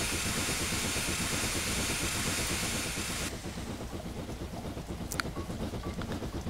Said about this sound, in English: This rain is just really annoying. Stupid rain.